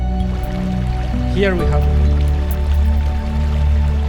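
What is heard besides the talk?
rushing, splashing water near the ATM cave entrance in Belize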